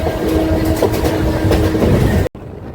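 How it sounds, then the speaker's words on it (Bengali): A local train on the Howrah to Panskura line pulls into Mecheda station, its steady rolling rumble and wheel clatter loud and close before cutting off abruptly into a quieter hush near the end. "এই মুহূর্তে ট্রেন কিন্তু প্রবেশ করে গেছে মেচেদা স্টেশনে"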